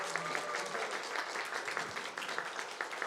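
A congregation applauds at a Christmas church service, steady dense clapping that fills the room and holds evenly throughout without any voices over it.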